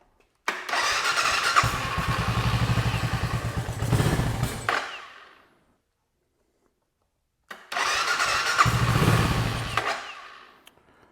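A motorcycle stored for two years with a fresh battery and a suspected fuel delivery problem cranks and catches twice, each time running rough and loud for a few seconds before cutting out, with silence between attempts.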